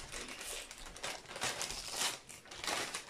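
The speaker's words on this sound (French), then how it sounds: "On déchire tout!" Gift wrapping paper is torn open in a continuous stretch of close crinkling and ripping that rises and falls without a break.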